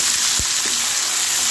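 Chilies and garlic fry in hot oil, a dense close sizzle with one soft thump of a utensil, loud and continuous with no voices.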